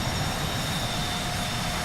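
An airliner in the FSX flight simulator taxis on the runway at La Paz, Bolivia, a constant broad engine roar with a faint high tonal whine, steady throughout and free of talk.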